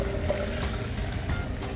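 Liquid pours through a small, cheap plastic strainer into a pitcher, making a steady, close splashing flow that stays at one level throughout.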